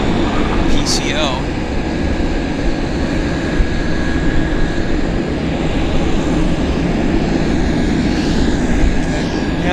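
An airliner at Vancouver YVR airport, a new aircraft in Pacific Coastal's odd colour scheme, gives off a steady, broad engine roar that holds for the whole stretch, with a thin sustained tone on top and people talking over it.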